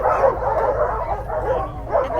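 Small puppies bark and yip in a steady flurry of overlapping high yaps, close and lively, continuing without pause.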